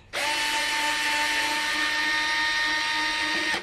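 A power tool spins a nut off with an 8mm socket on a C8 Corvette Z06 intake end cap, a single close, loud, steady whine lasting a few seconds that starts and stops abruptly.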